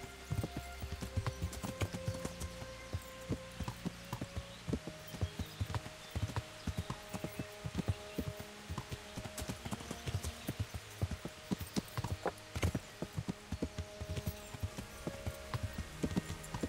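Horse hooves clip-clopping in the video game Kingdom Come: Deliverance, a steady rhythmic stream of sharp hoof strikes with a low hum beneath and no talk.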